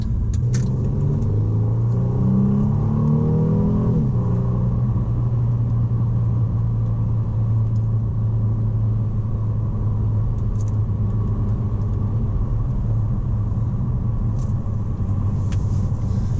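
Steady low road rumble and muffled tyre noise inside a Mercedes-Benz E350 4Matic Sport sedan while driving, continuous and subdued with a brief engine swell early on, no talking.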